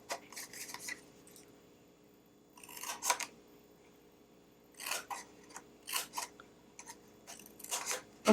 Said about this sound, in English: I'm just gonna cut at an angle, because it makes it a little bit easier.